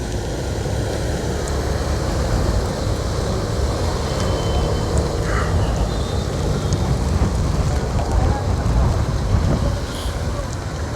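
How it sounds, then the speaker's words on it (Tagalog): Heavy rain pours in a constant dense hiss, with low rumbling gusts of wind underneath, loud and unbroken throughout. "Lakas pa rin ang ulan dito eh. May kasama ng hangin paminsan-minsan."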